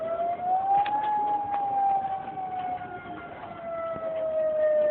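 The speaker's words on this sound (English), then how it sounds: "You hear the siren going off?" An outdoor tornado warning siren wails steadily for the whole stretch, its tone rising slightly and then slowly falling, loud and continuous with faint background noise and no talk.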